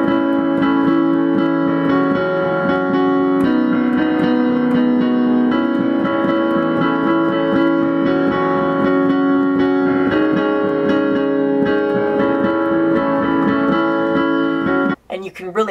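Piano plays sustained chords mimicking the three-part vocal harmony of the song's interlude, held steady and fairly loud, ending with a brief abrupt break.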